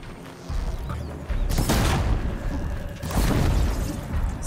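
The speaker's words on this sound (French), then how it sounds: "Ok, ça explose." Loud explosions in a game, two broadband booming blasts about a second and a half apart, each followed by rumbling debris over a constant background.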